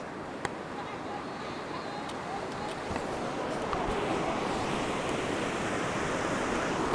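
Ocean waves break and wash continuously on a beach, a dense, steady roar of surf at moderate distance that swells slightly partway through, with a few faint sharp ticks over it and no speech.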